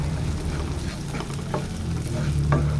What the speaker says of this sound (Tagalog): Haluin mo lang ng haluin.